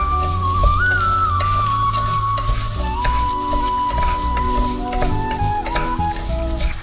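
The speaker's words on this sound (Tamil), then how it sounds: "அது போட்டு கொஞ்சமாக ஃப்ரை பண்ணிக்குவேன் அந்த நெய்யில் ஒட்டாமல் வரும்" Rice fried in ghee in a pan for ghee rice, a loud continuous sizzle with stirring scrapes and a thin whistling tone running through it, close up with no talking.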